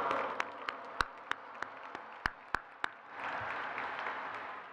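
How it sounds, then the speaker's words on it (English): Applause from the audience at a college commencement ceremony: a handful of sharp, separate claps ring out close by, then a broader, softer patter of clapping rises from the crowd. "let's give another round of applause to our student leaders, Joy and Arturo."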